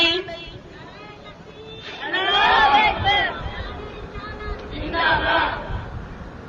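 A crowd chants slogans at a religious gathering, two loud swelling bursts of massed voices rising over a murmuring audience.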